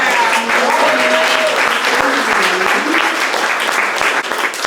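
Sustained audience applause at a poetry reading event, a dense steady wash of many hands clapping close and loud, with faint voices mixed in beneath it.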